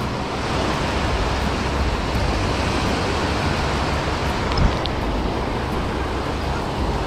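Surf rolling onto a Galveston beach in calm winter weather, a steady broadband wash of breaking waves that holds even and continuous, close and fairly loud, with no speech.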